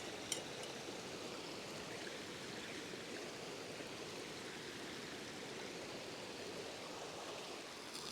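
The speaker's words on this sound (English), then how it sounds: "We're gonna cook it up and get a little bit of grease in the pan here." Bacon frying in grease in a skillet at a camp cookout, a steady dense crackling sizzle that holds evenly throughout without pause.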